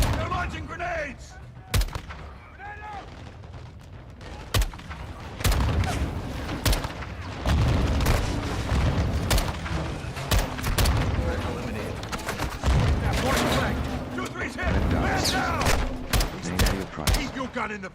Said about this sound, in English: Take cover! They're launching grenades!